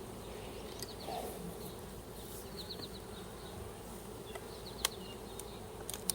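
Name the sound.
honey bees buzzing at a hive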